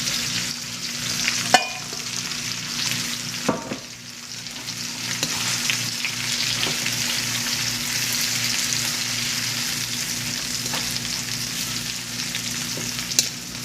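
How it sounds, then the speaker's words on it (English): Onions fry in coconut oil in a pan with a steady, bright sizzle throughout, broken by a few sharp clicks and stirring scrapes, close and alone with no talking. "I'm frying in coconut oil"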